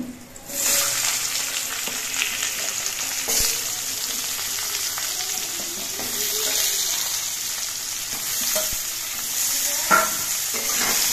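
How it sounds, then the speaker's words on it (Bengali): Steady sizzling of potatoes frying in hot oil with green chilli and nigella seeds, with occasional stirring scrapes and clinks throughout. "কাঁচা লঙ্কা আর কালো জিরে এটা একটু ভাজা হয়ে যাওয়ার পর এর মধ্যে আলুগুলো দিয়ে দিচ্ছি।"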